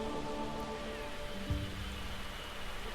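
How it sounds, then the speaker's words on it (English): Steady rainfall in the Godhood game, a constant hiss of drops on the ground with a faint low thump partway through and no voices. "Gathering materials in the rain."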